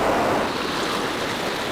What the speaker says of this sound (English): a large and fast river now flows through the cave